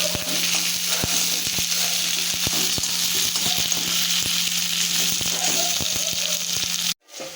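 Chopped pointed gourd frying in hot oil with onions, a steady loud sizzle with scattered crackles and light stirring knocks that cuts off abruptly near the end.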